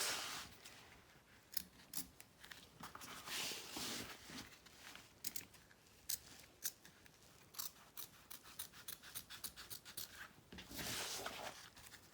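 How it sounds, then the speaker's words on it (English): Scissors cut fabric for a shoulder bag in a run of quiet, close snips, some single and some in quick bursts, with faint rustling between them and no talking. "carefully cut this inner portion away"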